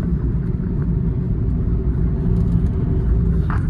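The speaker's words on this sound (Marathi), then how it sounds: "घाटामधलं ट्रॅफिक" Constant low rumble of engines and road noise from vehicles stuck in a traffic jam on a mountain ghat road, steady throughout with faint higher noises near the end.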